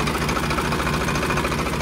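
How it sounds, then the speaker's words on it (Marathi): A Farmtrac 60 PowerMaxx Classic Pro tractor, a 55 horsepower three-cylinder diesel, runs with a steady, loud, close-up rhythmic engine chug and no talk over it. "Pharma truck 60 power max classic pro, पूर्ण 55 हॉर्स पॉवरचा ट्रॅक्टर आहे हा."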